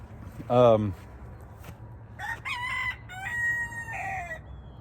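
A rooster lets out a short crow, followed by further crowing calls from farther off, with faint rustling and a steady low hum underneath.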